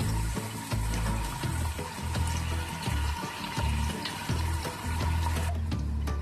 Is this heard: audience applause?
no